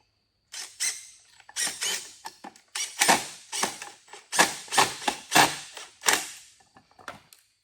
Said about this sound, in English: Go ahead and get the other 2 screws in.